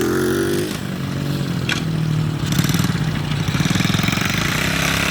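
A dirt bike engine idles and putters with a steady mid-pitched rumble, then takes on a faster rhythmic pulsing as it revs slightly, close and loud with no talking.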